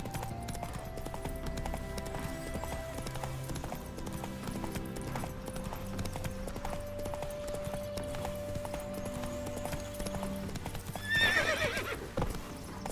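In The Witcher 3, a horse gallops with steady rhythmic hoofbeats over continuous game music. A horse whinny rises near the end.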